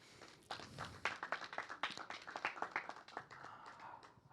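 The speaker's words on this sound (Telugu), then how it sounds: "చప్పట్లు" An audience applauds at an awards felicitation for the film Summer Holidays, a dense spread of many hands clapping that swells after a quiet start and carries on steadily, close and moderately loud, with no voices over it.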